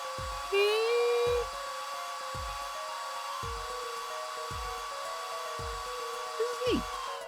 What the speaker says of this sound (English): Just press A to blast it with that dryer.